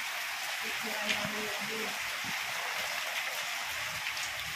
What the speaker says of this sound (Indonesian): Pas hujan lagi ya teman-teman.